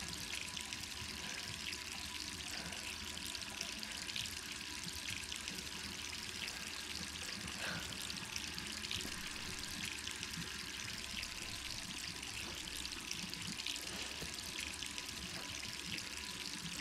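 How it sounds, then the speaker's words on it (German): A steady, soft hiss of running water in Resident Evil 3 Remake flows continuously without pause, fairly faint and even, with no voices over it. "Das Wasser läuft weiter."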